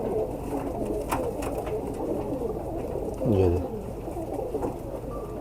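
Pigeons of a kabootar breed cooing nearby, a short throaty coo standing out briefly amid quieter bird sounds, while someone talks over them.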